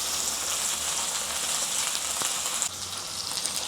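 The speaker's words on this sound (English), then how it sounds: "Just leave it there for a while over medium heat. Let it sear for a short while." Shrimp sear in a pan over medium heat for a ginger garlic stir-fry, making a soft, even sizzle with one brief tap near the end.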